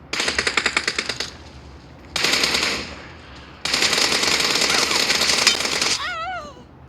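Rapid automatic gunfire from the video game PUBG comes in three loud, dense bursts separated by short gaps, the first with distinct repeated shots, followed by a brief electronic chirping tone at the end.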